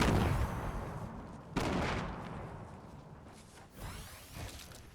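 Grenades thrown and detonating in Fortnite: Battle Royale, a few booming blasts with sharp onsets, one strong hit near the start and smaller bursts toward the end, over a dense rumbling game soundscape.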